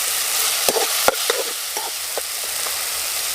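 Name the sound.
tomato pieces and spices frying in a pan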